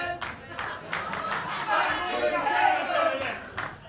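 Wrestling fans at an ASW South show in Wiltshire give scattered claps, shouts and chatter, a moderate, uneven crowd noise with voices calling out throughout.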